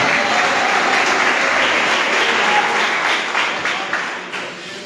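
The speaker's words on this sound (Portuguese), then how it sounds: "Só quem tem essa paz glorifique a Ele com mais palma" A church congregation claps hands in praise during an evangelical preaching service, a dense, steady wash of applause filling the room that gradually thins out toward the end.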